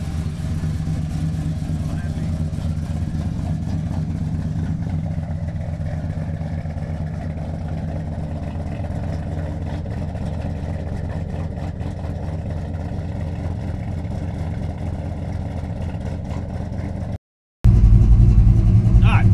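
A 1973 Chrysler Newport with a 400 big block engine rumbles steadily while driving, a loud continuous low drone filling the cabin with the windows down, briefly cutting out near the end before returning louder.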